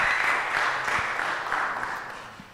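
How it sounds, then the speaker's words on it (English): An audience claps for a presenter at an entrepreneurship intervarsity event, a dense burst of applause that starts loud and gradually tapers off over a couple of seconds. "let's give him one more round of applause"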